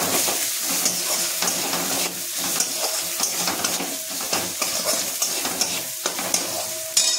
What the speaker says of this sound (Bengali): আবার এই মশলাটাকে কষিয়ে নেব।